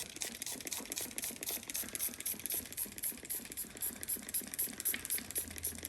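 Rapid, steady hissing spritzes from a spray bottle applying Koch Chemie S0.01 Hartwachs wax, a fast continuous pumping patter with no pauses, fairly quiet and close.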